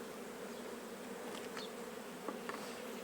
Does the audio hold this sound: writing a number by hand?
no